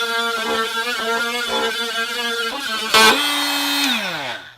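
An oscillating multi-tool plunge-cuts straight into a piece of wood, a harsh whining buzz with rhythmic pulses as the blade bites, then a sharp surge and a falling pitch as it winds down, loud and close.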